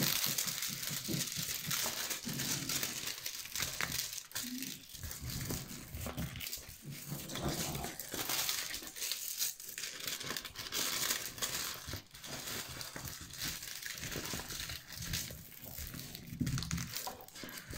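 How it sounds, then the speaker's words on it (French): Clear plastic sheeting from a diamond painting kit crinkles and rustles continuously at close range, in dense, irregular crackling bursts that never fully stop. "je vais remettre le papier transparent parce qu'il y a des trous"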